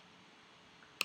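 A single computer mouse click saving a software download on a Mac, one sharp tick at the very end after near silence.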